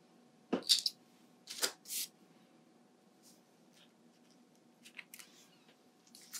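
Small scissors snip a paper quilling strip in a few quick, close cuts, followed by faint soft rustles and light handling noises in an otherwise quiet room.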